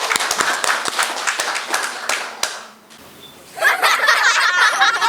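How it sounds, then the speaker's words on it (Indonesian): An audience at a school event claps for a newly chosen young reporter, a burst of sharp, uneven handclaps with some laughter that fades to a brief lull, then swells back into fuller, steady applause. "tepuk tangan sekali lagi buat Ambrul"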